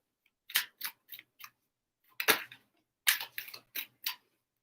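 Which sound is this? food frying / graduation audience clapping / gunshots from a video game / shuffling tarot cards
shuffling tarot cards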